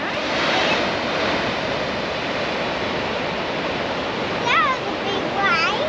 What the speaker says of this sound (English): That was a big wave. Very big waves.